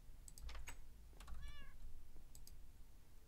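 A cat in Minecraft gives a clear, short meow near the middle, and a burst of keyboard typing and mouse clicks precedes it, with no talking.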